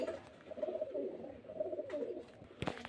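A female pigeon at a home pigeon sale in Beldanga coos in low, rolling bursts close by, with a brief sharper sound near the end.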